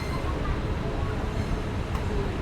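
Minangkabau Express airport train running on its line, a steady loud rumble of wheels and carriage noise throughout, heard from inside the moving train.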